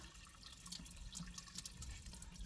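During winterizing of a MerCruiser 5.7 or 5.0 engine on a Nautique G25 wake boat, water is pushed out of the engine, a faint, continuous gurgling trickle with scattered drips close by and no voices.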